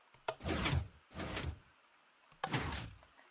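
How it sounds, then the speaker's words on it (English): Three mechanical sliding thunks from a Minecraft redstone piston door opening in the video game, each a short burst with a sharp attack, spaced by brief gaps, close and moderately loud with no talk. "that's a really cool redstone door"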